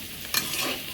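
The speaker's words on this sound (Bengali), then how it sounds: "করলা একটু আলু দিছি, একটু ভাজি করি।" Bitter gourd and potato frying in a pan, a close sizzle with a quick scraping stir burst in the middle, no voices.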